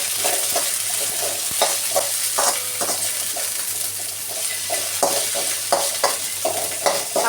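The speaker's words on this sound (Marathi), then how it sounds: "आपल्याला हे चांगलं परतून घ्यायचंय." Mixed vegetables and peas being stir-fried in a pan for vegetable and paneer fried rice, with steady sizzling and repeated scraping, stirring strokes of a spatula close by, no talking.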